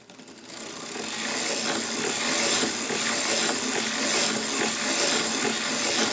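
A hand-cranked circular sock knitting machine runs steadily, knitting a tube with continuous dense mechanical clatter and rattling that starts after a brief pause and holds loud and even throughout, with no voices.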